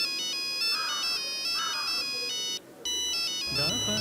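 A mobile phone rings with a bright electronic melodic tone, its repeating notes loud and close, briefly cutting out before resuming as a voice begins at the end.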